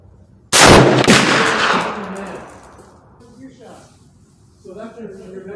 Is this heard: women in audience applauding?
no